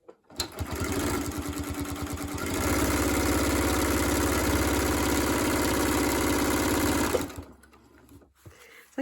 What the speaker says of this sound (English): you're just folding that over as you go, sewing a 1/4 inch seam allowance